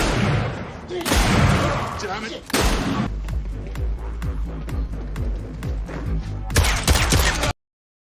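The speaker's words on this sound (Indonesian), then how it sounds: "Mike dan Erikson pada akhirnya terkepung dan tidak ada pilihan lain selain melakukan adegan tembak-tembakan yang cukup memacu adrenalin" Gunfire rings out in a movie shootout as two men, surrounded after stealing mafia money, fight their way out: loud broadband bursts and sharp cracks, then a rapid run of shots, all mixed with music and effects.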